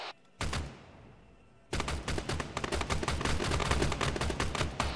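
Weapons in an armor-training video game firing at an AAT tank: a brief burst, a pause, then sustained rapid gunfire with dense, loud repeated shots filling the rest of the stretch.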